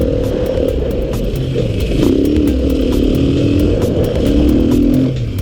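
A Beta RR480 four-stroke enduro motorcycle runs on an enduro loop, its engine droning steadily and rising in pitch as the throttle opens, heard close and loud throughout with no talk.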